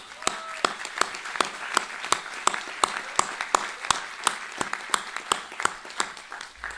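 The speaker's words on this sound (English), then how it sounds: "Can we give them a round of applause, graduates?" Graduates at a college commencement ceremony applaud their friends and family, a steady burst of sharp individual claps spread across the room, each clap distinct and crisp, continuing for several seconds without talk.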